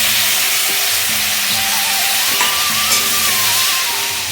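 Onion and ginger hit hot oil in a pan, giving a loud, even frying hiss that runs throughout, with a faint tonal hum underneath; no one speaks.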